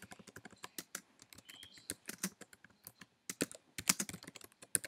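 Keys clatter on a computer keyboard as a caption is typed, quick irregular bursts of close, crisp taps with short pauses between runs, alone and fairly quiet.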